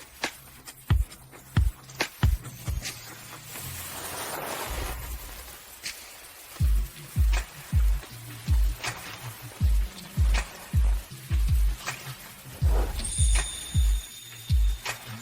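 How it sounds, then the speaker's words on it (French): Heavy rain falling outdoors, a constant wash of drops with repeated dull thumps and patters landing nearby, fairly loud and continuous. "il pleut si fort"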